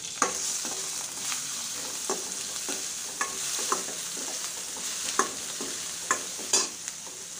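Onion, cumin and ginger-garlic paste fry in a little oil, giving a steady close sizzle broken by the scrape and clack of a spoon stirring the pan, with no talk.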